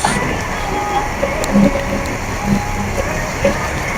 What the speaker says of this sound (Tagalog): Lakas ng ulan dito.